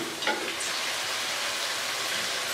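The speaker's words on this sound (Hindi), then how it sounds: "अब हम मसालों की अच्छे से भुनाई करेंगे।" Spices for a chicken curry fry in a hot pan with a steady, close sizzle and occasional stirring scrapes, heard alone without any talk.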